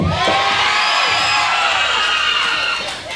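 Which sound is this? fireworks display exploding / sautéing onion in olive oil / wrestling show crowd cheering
wrestling show crowd cheering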